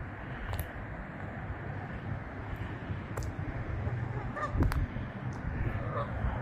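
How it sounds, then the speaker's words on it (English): Geese honk a few times at a moderate distance in a park in Flint, Michigan, scattered calls over a steady outdoor rumble of wind and water. "we got some geese there having some fun"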